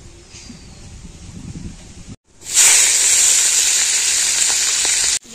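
Oil heating and sizzling in a kadai before bitter gourd goes in: a low rumbling stir at first, a short break, then a loud, steady, bright frying hiss that runs on without pause.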